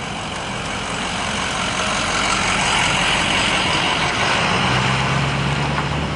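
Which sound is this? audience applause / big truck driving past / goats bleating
big truck driving past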